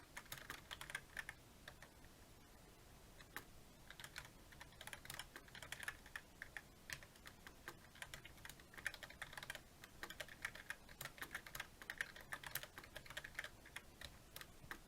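Continuous rapid typing on a computer keyboard during a typing tutor game, dense irregular key clicks for the whole stretch, close but quiet, with no talking.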